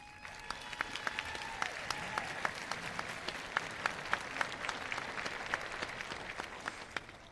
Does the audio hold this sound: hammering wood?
no